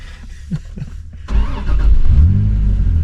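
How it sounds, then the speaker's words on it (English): A tuned car engine idling rough on unmapped base settings, then catching and revving up loudly with a steady droning note that rises and holds, close to the microphone. "So the engine has not been mapped. It's just running on very, very base settings."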